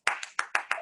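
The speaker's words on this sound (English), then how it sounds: "I'm applauding you" A person clapping hands five times in quick succession, sharp close claps in an even rhythm with nothing else heard.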